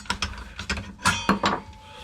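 A few short metallic clicks and ratcheting turns as a left-hand threaded fastener is loosened on a Makita cordless circular saw during a repair, close and alone.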